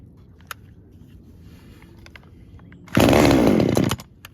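Small engine power equipment, a trade-in machine from a brand such as Proyama, Mellcom or Echo, catches and roars loud and close for about a second after being choked and primed, following quiet shuffling and faint clicks.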